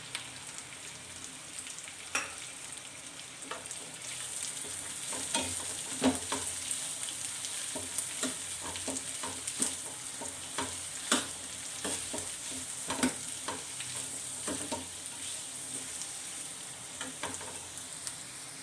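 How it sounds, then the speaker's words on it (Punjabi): Finely chopped onions fry in ghee for a Punjabi bhurji, a steady soft sizzle broken by scraping stirs and crackling pops, close and fairly quiet. "ਪਿਆਜ਼ਾਂ ਨੂੰ ਆਪਾਂ ਚੰਗੀ ਤਰ੍ਹਾਂ ਭੁੰਨਾਂਗੇ"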